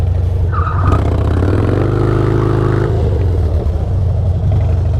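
Harley motorcycle revving hard at high RPM while drifting, a loud continuous engine roar with rising pitch in the middle and a brief tire squeal, no talk.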